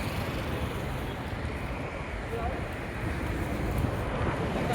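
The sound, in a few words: strong wind at Lonavala ghat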